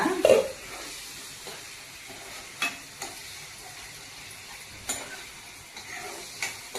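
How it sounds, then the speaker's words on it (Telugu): Oil fries for a bottle gourd kofta curry, making a steady soft sizzle up close, punctuated every second or so by sharp spoon-against-pan stirring clicks. "నూనె బయటకు వచ్చిన వరకు వేపాలండి కొంచెం"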